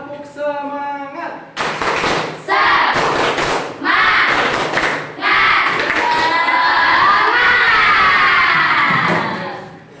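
A class of children performs the 'tepuk semangat' clapping chant, a loud rhythmic sequence of claps and thumps under energetic shouted chanting, after a brief voice leads in.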